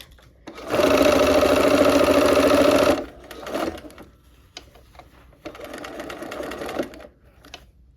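A sewing machine stitches a quarter-inch quilt seam in close, loud bursts: one long steady run of about two seconds, then a pause with small handling clicks, then a shorter second run.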